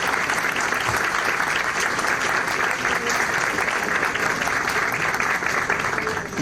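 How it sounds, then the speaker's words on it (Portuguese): A lecture audience gives a warm round of applause for the speaker's mother, dense even clapping that continues steadily for over six seconds. "Eu peço uma salva de palmas a ela."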